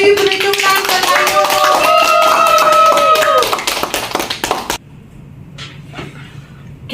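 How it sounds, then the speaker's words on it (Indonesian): High school students in a classroom applaud loudly in a dense burst of clapping under voices, which thins into scattered claps and fades after several seconds. "Beri tepuk tangan."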